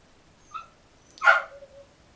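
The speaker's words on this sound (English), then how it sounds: "Now Alfie's barking to come in now." A dog barks to be let back indoors, a short yip followed by a louder, longer bark that trails into a whine, sounding alone in a quiet room.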